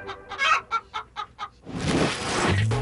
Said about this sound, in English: The chickens live a very good life.